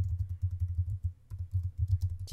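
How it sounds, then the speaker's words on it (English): Fingers tap rapidly on a computer keyboard in short bursts with a brief pause midway, making close, soft clicking keystrokes with no talk. "we're going to type in May 13th"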